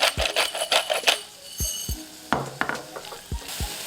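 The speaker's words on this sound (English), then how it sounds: "After adding the garlic and seasoning, I just kind of cook it for another 30 seconds to a minute" Garlic seasoned with salt and black pepper cooks in a pan for a green bean casserole, with a steady sizzle under repeated scraping and clinking of a utensil stirring against the pan.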